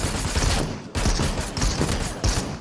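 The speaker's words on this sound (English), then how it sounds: "I don't know where we're getting shot at from." Bursts of rapid, loud gunfire ring out in the video game Super People as players come under fire, with sustained volleys broken by brief pauses, close and dense with no voices over it.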